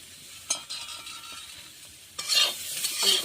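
Potatoes being stirred in hot oil in a pan, with a soft continuous sizzle, two brief scraping clinks, then a louder burst of frying and stirring near the end; no one speaks.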